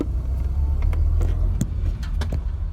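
A classic Mini pulls away in first gear, its engine a steady low rumble close by with a few light clicks and knocks over it.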